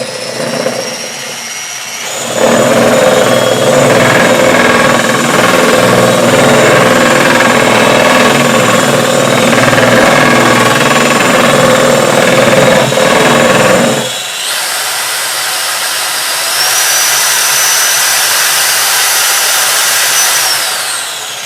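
A System 4000 pad washer spins a soaking-wet polishing pad, a loud, steady mechanical whir and rattle that starts abruptly, runs for roughly twelve seconds, then drops to a quieter hum that rises again, without talk.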